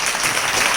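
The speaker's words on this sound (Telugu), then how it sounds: "గట్టిగా చప్పట్లు కొడదాం." A church congregation claps together at a Christmas service, a dense, even burst of applause filling the whole brief moment.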